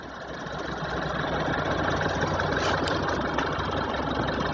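A Chevrolet Trax engine idles steadily in a dense, even hum that settles in after the first second, recorded close with no talk.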